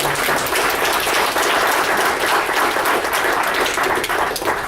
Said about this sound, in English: let's give Kirk a round of applause